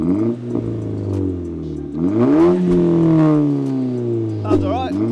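A Toyota GR being tuned revs loudly and close by, its engine note sweeping up and easing back down in a couple of smooth, rising pulls over a steady idle rumble.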